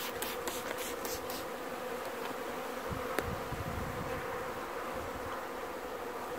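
Honeybees buzz steadily at a hive on a September day in Newfoundland, a dense, continuous close-up drone of many wings with no talk over it.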